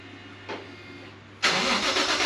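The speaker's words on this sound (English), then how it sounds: "I want to hear what the exhaust sounds like without leaks" A car's low idling engine hum, a brief blip, then the exhaust, with its leaks fixed, bursts into a loud, sustained rev close by.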